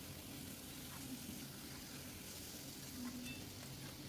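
Constant soft sizzling of spices cooking in a pan for ridge gourd and moong dal ghonto, with faint stirring scrapes, steady throughout and fairly quiet.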